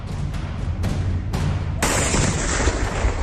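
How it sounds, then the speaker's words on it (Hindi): A bomb detonated by a bomb squad on the outskirts of Birbhum, after being recovered from a government community hall, goes off in several heavy booming blasts, the last one loudest with a long roaring rumble, and no one speaks. "धमाके की ये गूंज बीरभूम की है, जहां सरकारी कम्युनिटी हॉल से बम की बरामदगी हुई"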